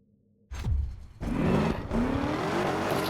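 Turbocharged Mustang roaring through a race in Need for Speed Unbound, engine surging loudly after a short quiet start and holding a steady, revving drone with a rising whine.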